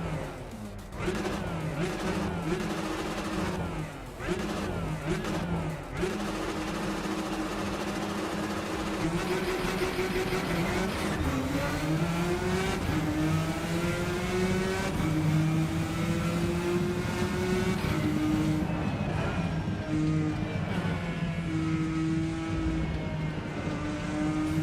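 Porsche GT1 race car engine in the Rennsport racing game, a loud sustained roar with rising and falling revs through gear changes, running continuously with no talk over it.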